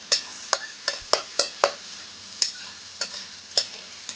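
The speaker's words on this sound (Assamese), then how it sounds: "এতিয়া হেতা দি লৰাই দিছোঁ আৰু নহৰু আৰু পিঁয়াজখিনি" Garlic and onion stirred with a spatula in a hot pan for a chicken Maggi dish, giving a dozen or so sharp scraping clicks at an uneven pace over a steady low sizzle, close and fairly loud, with no voices.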